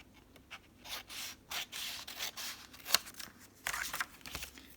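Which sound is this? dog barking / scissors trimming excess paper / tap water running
scissors trimming excess paper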